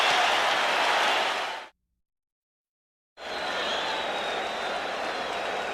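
Crowd noise in a packed Boston arena during a 1987 NBA Finals basketball game: a loud, dense roar that cuts out completely for about a second and a half, then returns just as steady and full.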